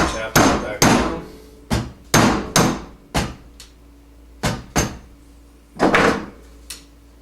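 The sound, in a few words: tapping KYB shock part down with flat screwdriver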